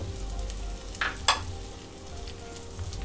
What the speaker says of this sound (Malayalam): അത് നമുക്ക് ഇതിൽ ഈ എണ്ണയിലേക്ക് ഇട്ട് കൊടുക്കാം. ഒന്ന് വഴറ്റണം